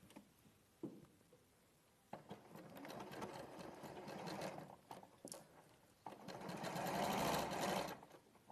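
A sewing machine runs through fabric in short, faint bursts, stopping and starting with a soft ticking patter before a longer, steadier run near the end.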